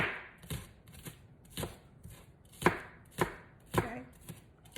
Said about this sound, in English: So just chop up your green onions.